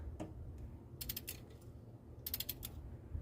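Ratchet wrench tightening bolts while reassembling a Ford Mustang engine, a few quick clusters of sharp clicking ratchet strokes, close and fairly quiet, with brief pauses and light metallic taps between.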